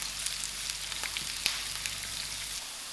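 Onions softening in a pan give a steady, close, hissing sizzle with small crackles scattered through it and no voices.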